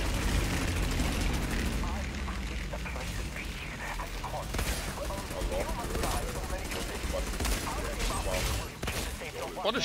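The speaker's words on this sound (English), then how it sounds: "What is shooting me in my face?" Dense video-game gunfire in a World Tier 3–4 looter-shooter session, continuous bursts and volleys mixed with engine-like rumble, loud throughout, with someone talking over it.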